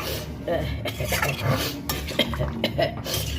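Something frying in a kadai is stirred, with continuous scraping and clinking of a utensil against the metal pan at close range, while soft background activity continues throughout.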